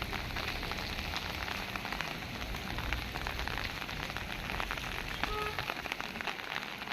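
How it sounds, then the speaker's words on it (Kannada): Heavy hail with rain pounding down during a storm in Belagavi, Karnataka, a dense, steady roar of impacts that stays loud and continuous throughout with no voices. "ಇದು ಎಲ್ಲ ಆನೆಕಲ್ಲು."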